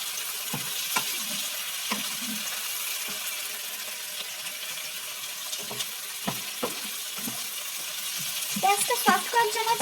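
Sliced onions soften in hot oil in a pan for a hilsa fish dopiaza, giving a steady, close frying hiss with scattered light scraping taps from stirring. No one speaks.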